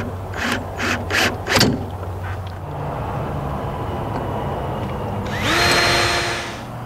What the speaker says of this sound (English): it's just a matter of holding it up